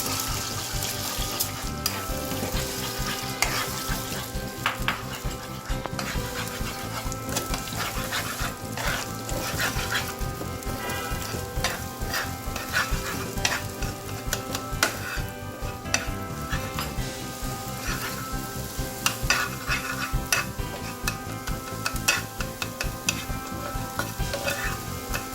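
Two eggs scrambled in a frying pan with a pinch of salt, a steady close sizzle and frying hiss running throughout with scraping stirring strokes, over a busy, dense background.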